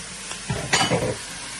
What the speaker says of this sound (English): Now we're going to put in the meat.